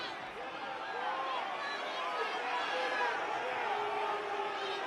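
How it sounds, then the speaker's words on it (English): A basketball arena crowd murmurs and grumbles in disapproval during a close game, a broad, sustained wash of many voices at moderate distance, with scattered shouts rising and falling. "Crowd not liking that a couple of the Cats went over to talk to Logie."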